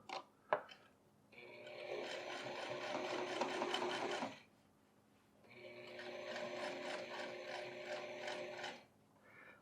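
A sewing machine runs a top stitch along a pair of men's pants in two clear bursts of rapid mechanical chatter, each lasting a few seconds, separated by a short pause in a quiet room.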